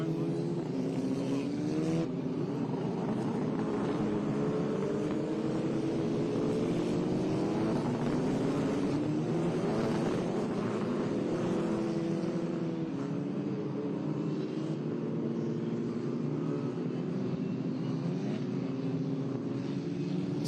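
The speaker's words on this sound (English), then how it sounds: "Formation lap now officially underway." Formula race cars, including Ligier JFC and F4 machines, run the formation lap at New Jersey Motorsports Park behind a Corvette pace car, their engines droning continuously with rising and falling pitch.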